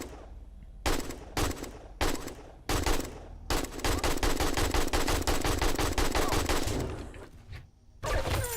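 Rapid automatic gunfire from a powerful weapon in a video game, loud sustained bursts with short gaps at first, then a long continuous stream of shots before a brief pause and another burst.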